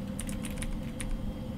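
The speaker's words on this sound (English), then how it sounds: "Okay, I'm just typing." Rapid clicking keystrokes on a computer keyboard during play of the horror video game Fears to Fathom, a short burst of close, uneven taps over a faint background hum.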